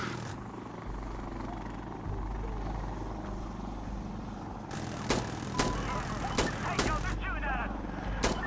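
Apache attack helicopter in Insurgency: Sandstorm, a steady low rotor drone throughout with sharp gunfire bursts cracking over it in the second half, amid other battlefield noise.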